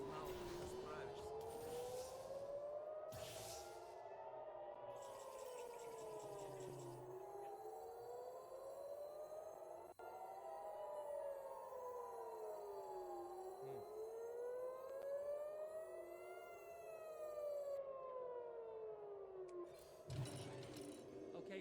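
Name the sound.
siren wailing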